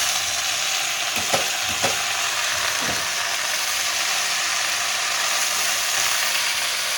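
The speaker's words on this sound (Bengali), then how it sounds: "এই যে আমার শাক ভাজা হয়ে গেল" Leafy greens (saag) fry in a pan with a constant close crackling sizzle, and a few sharp utensil clicks near the start.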